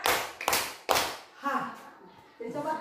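Three crisp hand claps in quick succession from a teacher demonstrating a counted clapping routine for young pupils, followed by a person speaking.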